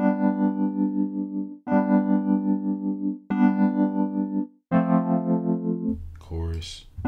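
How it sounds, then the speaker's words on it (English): Four sustained chords from a Waves software electric piano, each swirling with a sweeping phaser effect, followed by a brief burst of noise. "Phaser."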